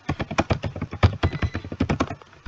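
Rapid typing on a computer keyboard while entering details into an online job application form, a close, steady patter of keystrokes with irregular bursts and no voices.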